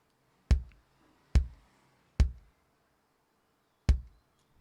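Four deep, punchy bass drum hits from a sample in FL Studio sound alone in an uneven pattern, each with a sharp attack and short booming decay.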